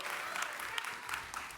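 Steady applause from a theater show audience at CERN, a dense patter of clapping hands that holds evenly for a moment at moderate distance.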